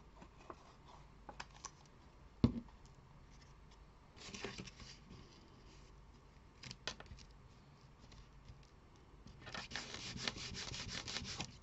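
Paper being rubbed and pressed down by hand to glue a small tab onto a handmade double Christmas card, soft intermittent scuffing strokes with a longer rubbing burst near the end, quiet and close with no talking.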